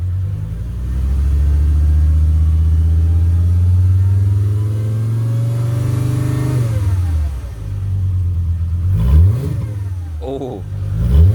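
A VW Golf Mk4 with the 2.3 V5 engine revs up and holds a steady high rumble for several seconds, then drops and blips the throttle in quick loud bursts, close by.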